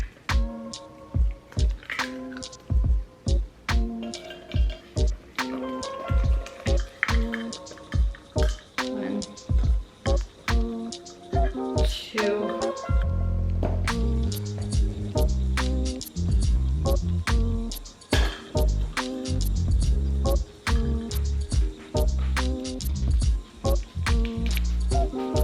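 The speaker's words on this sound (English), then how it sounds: "it's been like a couple minutes of stirring this thing" A batter or dough mixture is stirred by hand while baking, giving wet squishing and clicking strokes in an irregular rhythm, close and fairly loud, with a heavier continuous churning in the second half.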